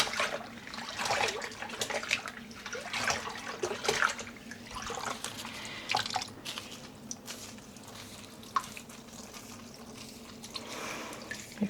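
Dyed cotton yarn skeins are rinsed in water, with soft sloshing and squishing splashes that come in irregular bursts, fairly quiet and close with no talk.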